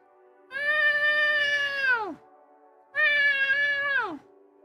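A person imitates a cat meowing with their voice: two long, loud, drawn-out meows, each falling in pitch at the end, separated by a short pause and heard alone without other talk.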